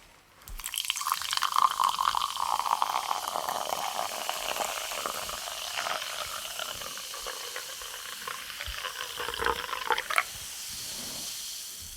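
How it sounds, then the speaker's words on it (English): Liquid poured into a glass for a sci-fi battle mecha maintenance role-play: a close, steady stream with gurgling and dripping that lasts about ten seconds, then stops, leaving quiet. "I'll just, you know, pour it in the glass"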